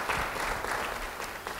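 A church congregation claps in a brief, fairly faint round of applause, a soft continuous patter with no talking.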